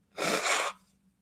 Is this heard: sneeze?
yes